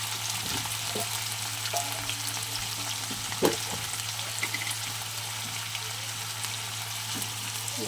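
Prawns sizzle steadily in hot oil in a pan, a close, continuous frying hiss with a few spatula clicks and a low hum underneath.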